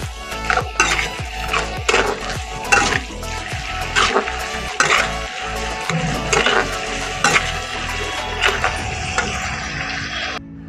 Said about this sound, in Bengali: তেলে পেঁয়াজগুলো দিয়ে তার মধ্যে একটু করে চিনি দিয়ে দেবো।